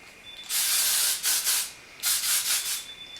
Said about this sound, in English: This is the Tresemme 24-hour body finishing spray.